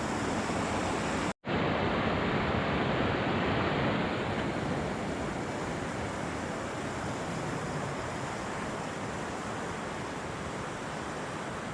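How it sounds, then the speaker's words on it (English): Rushing rapids of a swollen mountain trout stream, a steady broadband roar of churning water close by with a brief dropout early on, continuous and unbroken with no voices. "what was once a very tranquil stream is now a rushing rapids"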